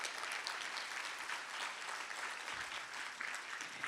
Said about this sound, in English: How about a big round of applause for Rick one more time?